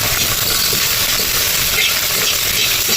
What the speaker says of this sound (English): So once the oil has heated, we will add this into the hot oil